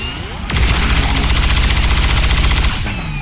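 Rapid automatic gunfire from the video game XCOM 2, a loud sustained burst of rattling shots lasting about two seconds, then ending abruptly with a faint ringing tail.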